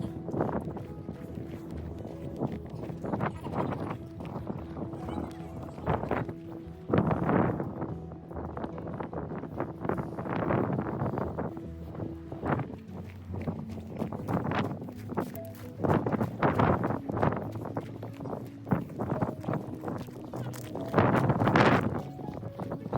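Strong, gusty wind on the alpine summit of Mount Washington, New Hampshire, buffets the microphone in loud, rumbling surges, with crunching footsteps and shifting noises mixed through.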